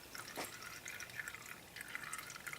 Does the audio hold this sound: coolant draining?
yes